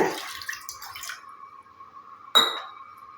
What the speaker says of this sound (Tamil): ஒரே ஒரு டம்ளர் வந்து தண்ணி சேர்த்துக்கோங்க அதே கடாயில்.